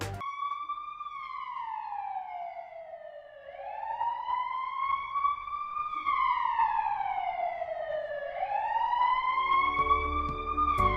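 Wailing ambulance siren for an advanced life support ambulance in an Indian television advertisement, its tone sweeping slowly up and down in long, loud cycles with no voices over it.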